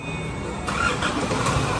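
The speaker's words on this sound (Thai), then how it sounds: "ทำการสตาร์ทเครื่องยนต์นะเอ้า" A Chevrolet car engine cranks and catches, settling into a steady idle hum close by.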